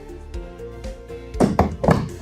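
An antique icebox, a pre-refrigerator cabinet cooled by a block of ice, has its door shut, giving a few dull knocks and then a cluster of heavier, close wooden thuds.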